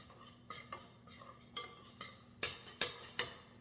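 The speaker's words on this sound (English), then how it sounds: "And then you're gonna mix the dried ingredients with a spoon." A spoon mixes dry pumpkin muffin ingredients in a bowl, giving a quiet run of rhythmic clinks and scrapes that grow sharper and more frequent toward the end.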